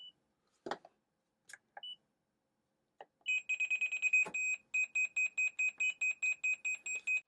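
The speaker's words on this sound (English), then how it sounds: "when I place it near the cable, it will beep" FNIRSI LPM-10A network cable tester receiver held near a cable gives a rapid, steady train of high electronic beeps, close and clear, after a few scattered clicks and handling knocks.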